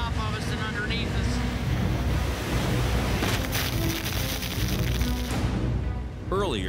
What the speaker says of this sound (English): hauling into a big swell and 50-knot winds